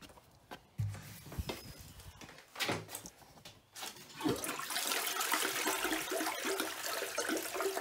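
A household water pump system being flushed gives a few scattered clunks and knocks, then a steady rushing surge of water that swells and carries on to the end.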